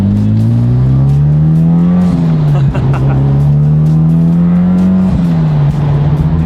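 A car engine with a V-mount turbo setup, swapped into an S2000, revs up and down nearby, pitch rising and dipping in smooth sweeps with a rough turbo hum.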